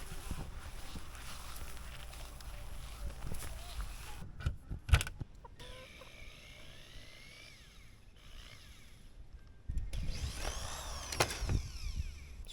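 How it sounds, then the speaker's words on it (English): A cordless drill backs screws out of a door in a space with chickens nearby, with short whirring bursts separated by pauses, under faint clucking and shuffling. "I need to take these screws out to release this door"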